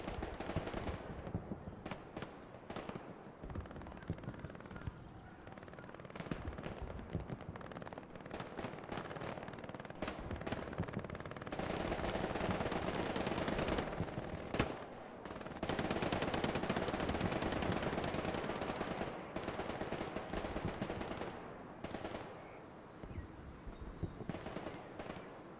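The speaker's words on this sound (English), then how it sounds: "Oh, MG rounds come in from Zwerg." Machine gun fire in the World War II shooter Hell Let Loose on the Hurtgen map: sustained rapid bursts crackle continuously, some stretches dense and prolonged, others choppier, loud and near with distant shots mixed in.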